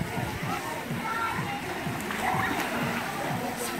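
Water splashes and patters steadily from a mushroom-shaped fountain in a water park pool, a close, continuous spatter running under children's and adults' voices.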